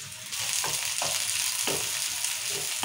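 Onions, chillies and curry leaves frying in hot oil, a loud steady sizzle broken by several stirring scrapes at regular intervals, heard up close with no voices.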